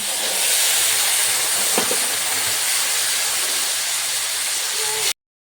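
Ginger paste and turmeric sizzle in hot oil with cinnamon, cardamom, bay leaf and asafoetida for a cauliflower roast, a steady loud hiss of frying running unbroken until it stops abruptly.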